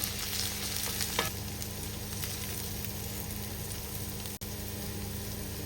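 Shrimp fry in a hot pan for mixed vegetable egg noodles, a steady loud sizzle throughout with a few stirring scrapes and a brief cut near the end.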